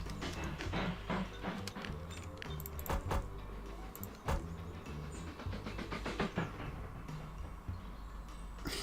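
Trains run in the railway-building game Mashinky on a small USA map, a steady rumbling rail ambience with repeated clattering and clicking over wheels, continuous and moderately loud with no talking.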